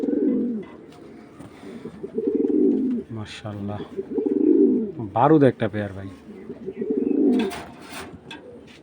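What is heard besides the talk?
racing pigeons cooing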